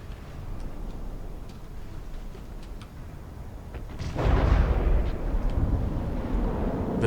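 Heavy ship guns firing in a naval video game battle, a quiet ticking background broken by one loud, booming blast that rolls on into a sustained rumble.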